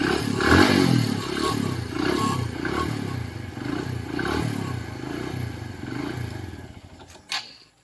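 A motorcycle engine runs steadily at idle, loud and close, with a rough low rumble throughout, then cuts out abruptly near the end after being shut off by a GPS tracking lock, leaving near silence apart from a brief click.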